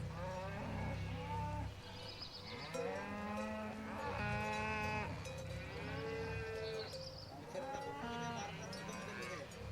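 A cow lows repeatedly at close range, with drawn-out, droning calls following one another. Other farm animals may call faintly in the background.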